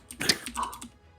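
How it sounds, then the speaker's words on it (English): A few quick computer keyboard keystrokes tap in a short, uneven cluster, close but soft, with a brief voice murmuring underneath. "Like there's a faint typing sound, but no one knows what typing is."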